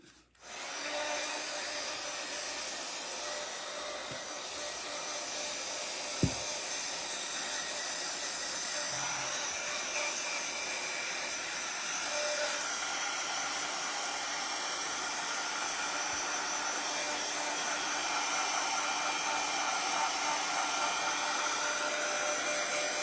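Hair dryer blowing steadily to dry something indoors, a continuous loud whir running unbroken for the whole stretch with a brief click partway through, no talking over it.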